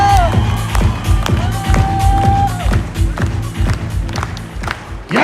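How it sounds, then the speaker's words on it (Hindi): Seminar audience claps and cheers in a big hall, rhythmic loud clapping with whoops and shouts over it, a voice briefly calling out amid the crowd. "सारा मर्दों का गेम है, जोरदार ताली बजाओ।"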